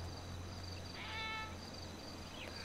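A high, drawn-out cat meow with a synthetic, game-like tone from GTA V, heard alone over a steady low hum.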